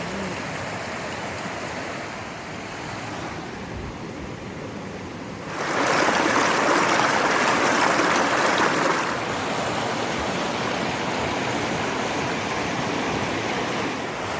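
A big mountain creek at the bottom of a steep slope rushes and burbles in a continuous broad wash, swelling louder for a few seconds midway before settling back to a steady flow.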